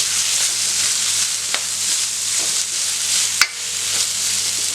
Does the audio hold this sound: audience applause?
no